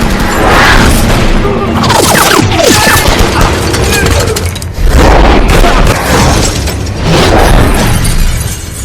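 Loud, chaotic bursts of pistol gunfire with booming impacts and crashes, dense and continuous throughout, with shouting voices mixed in.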